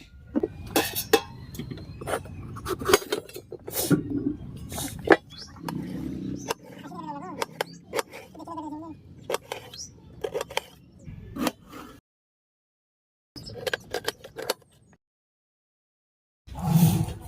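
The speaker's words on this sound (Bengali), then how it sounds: "প্রথমে আমি ক্যাপসিকামের বোটাটা কেটে নিচ্ছি।" A knife cuts the stem off a capsicum on a plate, giving irregular close clicks and scrapes of blade on plate, scattered across the clip with brief pauses and a long silent gap, while a voice talks over it.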